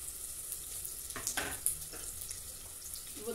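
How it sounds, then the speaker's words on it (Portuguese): Sardines fry in a pan with a faint, steady sizzle and a few soft clinks, with no talking. "Eu vou deixar ela fritar aqui."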